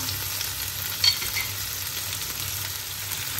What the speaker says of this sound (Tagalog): Ilagay na natin yung ating men. Yan. Tapos saka natin halu-haluin.